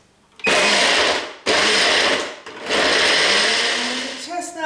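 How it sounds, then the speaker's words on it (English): A countertop blender pureeing roasted chestnuts with milk roars loudly in three bursts, the first two short and the last longer, with brief pauses between them and a whirring wind-down at the end. "I'm going to blend these ingredients together until these are smooth and form a puree"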